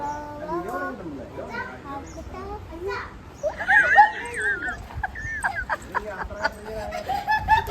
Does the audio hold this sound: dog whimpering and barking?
yes